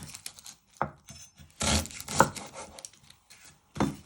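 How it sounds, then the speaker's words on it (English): A knife chops the ends off an onion-like vegetable on a cutting board, giving several sharp, close thuds and cuts in uneven rhythm, with faint scraping between strokes and no talk. "Then you're going to chop your other ends off."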